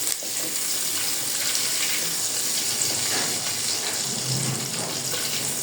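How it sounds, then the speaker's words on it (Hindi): Water poured into a large cooking pot while making chicken pulao, a steady, fairly loud rushing splash that runs unbroken for several seconds with no voices. "इसी पतीले में मैं डाल रही हूँ पानी"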